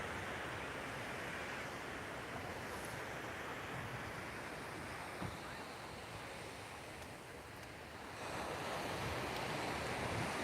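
Ocean waves washing onto a beach make a steady, broad roar of surf mixed with wind across the microphone, holding constant and swelling slightly louder near the end, with no clear talk.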